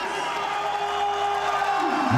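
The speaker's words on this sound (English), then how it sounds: "And the crowd in rapture." Large crowd at a Pakistan vs Sri Lanka one-day international cricket match roars and cheers in a sustained, loud wash of voices, with no break across the moment.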